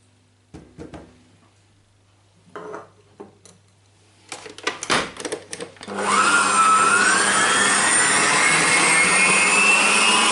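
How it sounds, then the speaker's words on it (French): Electric mixer whipping ladyfinger batter of egg whites and sugar, starting after a few scattered knocks and clatters and then running as a steady, loud whir that holds to the end. "On va les mélanger par contre juste 10 à 15 secondes."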